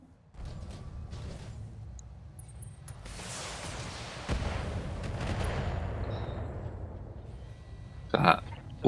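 A Panzer mech in Battletech fires a heavy weapon, producing a deep sustained roaring blast that swells and slowly decays, followed by a brief sharp mechanical clank near the end.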